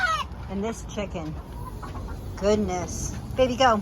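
Backyard chickens, including an Americana hen, clucking and squawking in short bursts close by, with someone talking softly among them.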